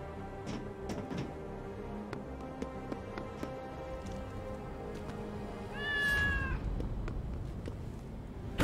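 A black cat meows once in the video game Loopmancer, a single clear drawn-out meow near the end, preceded by scattered clicks and footstep-like taps over a low game hum.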